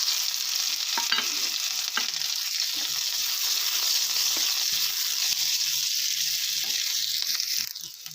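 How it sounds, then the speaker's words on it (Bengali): Dry chilli and nigella seeds sizzle steadily in hot oil with chopped onion, a loud continuous frying hiss with occasional stirring scrapes and crackles, easing slightly at the very end. "শুকনো লঙ্কা আর কালো জিরে থেকে খুব সুন্দর একটা গন্ধ বেরোলে তারপর আমি পেঁয়াজ কুচিটা দিয়ে দেবো"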